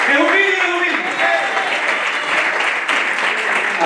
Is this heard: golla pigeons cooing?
no